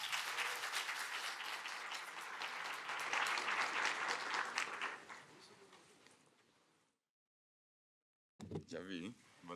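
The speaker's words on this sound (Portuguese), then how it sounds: "Por favor, uma salva de palmas para a nossa governadora." A conference crowd gives a long round of applause for the governor of Pernambuco, full and steady before fading out over several seconds; after a short silence a voice begins speaking.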